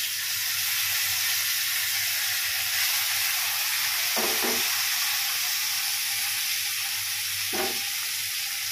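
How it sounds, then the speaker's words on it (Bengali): Hilsa fish frying in a pan with a steady sizzle and hiss, a couple of brief clinks or stirs, while rain falls outside. "ইলিশ মাছ ভাজা হচ্ছে এখানে"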